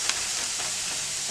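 Shrimp sizzle steadily in a pan over medium-high heat while cooking for shrimp Alfredo with zucchini noodles: a continuous, even frying hiss with no voices.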